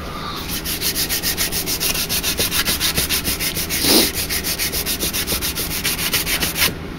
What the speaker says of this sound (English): with your abrasive cloth or your micro mesh.